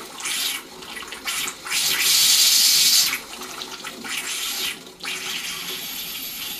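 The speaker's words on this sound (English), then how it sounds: "I'm hearing water squirt out from under it." Water gushes and sprays from water heater pipes in uneven bursts, loud and close, with short pauses and surges in the hissing flow.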